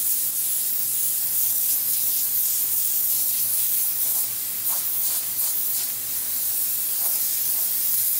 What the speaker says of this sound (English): this is the difference between spraying for artwork and spraying for just solid color